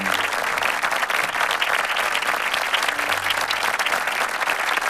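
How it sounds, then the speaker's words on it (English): Steady, dense applause from an audience at a school annual day celebration, welcoming the awardees. Many hands clap continuously and loudly for the full stretch, with no voices standing out. "let's have a round of applause to welcome the awardees of this year"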